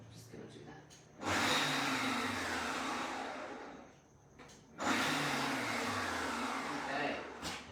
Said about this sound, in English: So if you're doing the pulse, as things go up the side of the bowl, they tend to drop back down in between pulsing as well.